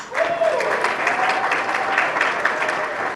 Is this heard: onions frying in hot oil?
no